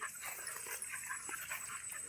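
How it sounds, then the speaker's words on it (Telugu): Puppies whimper and yip in quick, overlapping cries, close by and fairly steady in level. "ఇప్పుడు మా పప్పీలకు అన్నం అయితే వేయాలండి కంగారు పడిపోతున్నాయి అవి"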